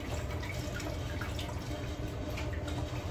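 Water squeezed from a freshly washed, cleaned fish drips and trickles steadily into a sink, a close, continuous wet patter with no voices.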